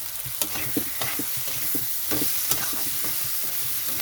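Spice paste for a loitta fish bharta sizzles in a pan, a steady bright frying hiss with repeated scraping strokes of a spatula stirring it, close and moderately loud with no voices.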